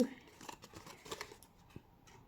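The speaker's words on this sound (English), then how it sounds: "Okay, so we're going to cut straight up there." Small paper snips cut designer series paper in a few quick close crisp clips, with soft paper rustles and a person talking between the cuts.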